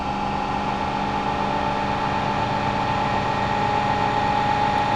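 A snare-sample noise source inside an audio plugin hisses out as dense, steady broadband white noise, constant in level for the whole stretch with no breaks.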